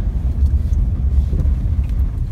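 A 2011 Chevrolet Captiva with a hard ride rolls over road bumps, giving a steady loud low rumble from the tires and suspension inside the cabin, with faint knocks scattered through it.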